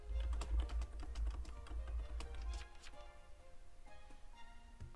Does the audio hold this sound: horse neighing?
no